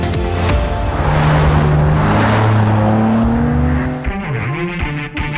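A new BMW M3 Sedan at speed on the Nordschleife, its engine droning loud and steady from inside the car, with a pitch dip and shift near the end as revs change.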